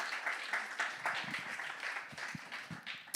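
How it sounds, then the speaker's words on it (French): An audience at a church gathering claps for a guest stepping forward, a faint, thin patter of hands with a few louder individual claps scattered through, no voices over it. "Vous pouvez l'applaudir."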